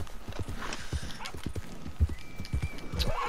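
Horse hooves clip-clop steadily at a brisk gait in Red Dead Redemption 2 Online, from a short, bulky, fast horse, with a brief whinny-like sound and a faint tone in the background; no talk.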